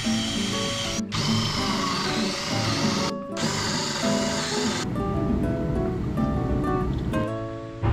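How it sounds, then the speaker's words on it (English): A power drill with a 1 inch bit boring into wood along a 3/8 inch pilot hole: loud, close whirring grind in long runs with brief pauses, ending in lighter spin-down and handling noises. "a 1 inch bit, and it just follows the 3/8 hole, drills a perfect hole centered every time"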